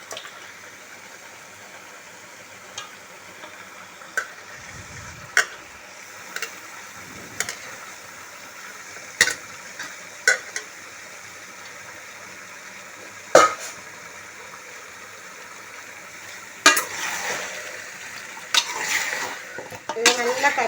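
Chicken curry meat mixed with liver cooks in a pan under a low sizzle, as a spoon scrapes and taps the pan in scattered strokes that grow busier toward the end.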